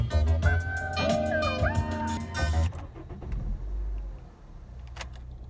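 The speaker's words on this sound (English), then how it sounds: "Gotta actually turn the car on, my bad." Car engine cranking and catching with a mechanical whir, followed by a settling idle and a few light clicks, heard alongside music playing in the cabin that cuts out partway.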